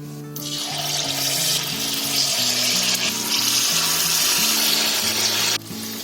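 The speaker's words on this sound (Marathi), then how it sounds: "आता त्याच्यामध्ये आपल्याला छोटे छोटे वडे सोडायचे आहेत, म्हणजे आपले भजी सारखे सोडायचे." Spoonfuls of pakora batter dropped into hot oil, a dense close sizzle that swells as the batter goes in, with faint clinks of the spoon, ending abruptly.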